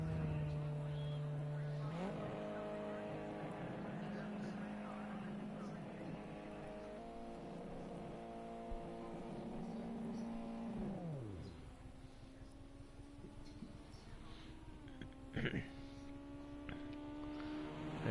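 Race car engines drone steadily in Gran Turismo 5, a sustained whine that shifts pitch and then drops off as a car pulls into the pits, with commentators talking over the engine noise.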